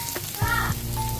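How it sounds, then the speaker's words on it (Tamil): Dried red chillies frying in a pan of hot oil for a Chettinad-style chicken liver fry, a brief close sizzle that swells suddenly and crackles on. "2 பட்டை மிளகா நல்லா நம்ம ஃப்ரை பண்ணிக்கலாம்."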